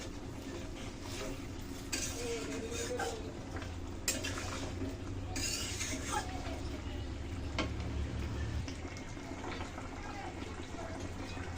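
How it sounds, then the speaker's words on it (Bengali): A spoon scrapes and stirs fish curry with green plantain and potato in a pan, with soft intermittent clinks and wet sloshing at close range while a voice speaks quietly in the background. "ভালো করে সব কিছু দিয়ে এখন ভালো করে মিশিয়ে নিচ্ছি।"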